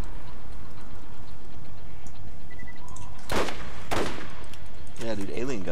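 Distant enemy gunfire in the game Borderlands, a couple of sharp cracking shots followed by a wavering energy-weapon burst over constant background hum.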